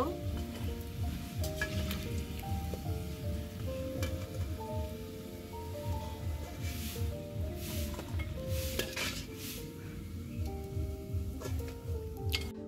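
Samosas deep-frying in a wok of hot oil, a steady close sizzle and bubbling with occasional scraping stirs, no talk.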